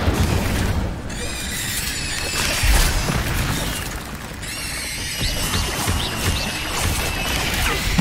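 An Incendio fire spell is cast in Hogwarts Legacy, giving bursts of fiery whooshes and crackling blasts, with loud booms and impacts as the spells land amid game combat.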